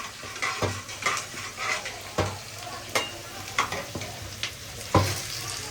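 Onions fry in a pan toward light brown under a steady soft sizzle, broken every second or so by a utensil stirring and scraping at close range.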